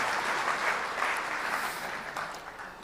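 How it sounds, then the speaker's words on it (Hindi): Crowd at a Republic Day kavi sammelan and mushaira applauding warmly, thick sustained clapping that slowly eases off toward the end. "एक बार आप ज़ोरदार तालियों में इस्तकबाल करें"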